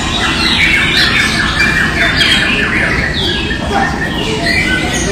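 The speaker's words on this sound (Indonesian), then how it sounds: "sing kalau cucak ijunya namanya Cak Jo" A green leafbird (cucak ijo) gives repeated harsh squawking calls, loud and close, forming a continuous scratchy chatter for several seconds.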